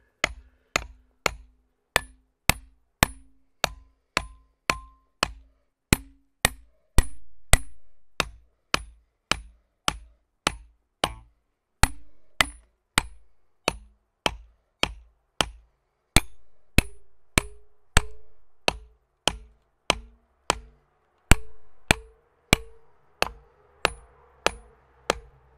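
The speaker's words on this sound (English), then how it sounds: "I just usually start with a small hammer." A small hammer strikes steel wedges and feathers to split a big rock, over and over at a steady pace, each blow sharp and ringing, close up and with no talking.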